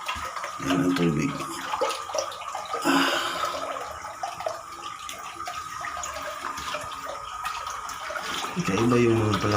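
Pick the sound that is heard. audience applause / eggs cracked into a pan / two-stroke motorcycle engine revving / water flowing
water flowing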